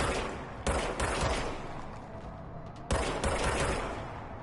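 Rapid gunfire from the service weapon in the action game Control, two close, loud bursts of shots separated by a brief lull, with no talking.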